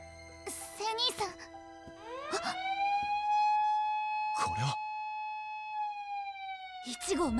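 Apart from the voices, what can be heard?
alarm siren warning of an attack, from an anime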